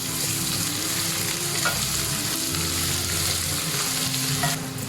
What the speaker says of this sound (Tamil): இப்போ நம்ம பூண்டு போட்டுக்கலாம்.